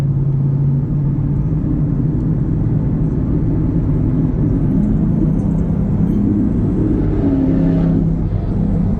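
A steady engine rumble drones throughout, a vehicle running close by in heavy traffic with a low, continuous roar and no voices.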